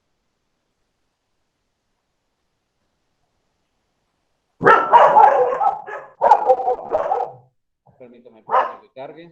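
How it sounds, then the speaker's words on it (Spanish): Several dogs bark in a short burst after a long silence, sharp loud yaps clustered together, then a few fainter yips and whimpers trailing off; a voice speaks briefly. "Una disculpa por los perros."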